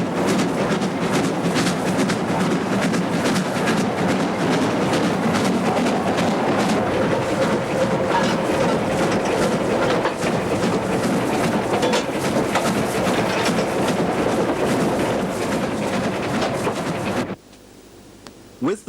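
A Metropolitan Railway steam locomotive hauls a passenger train over District Railway track near Upminster, a steady rumbling roar of wheels and engine held at constant loudness, ending abruptly in near silence.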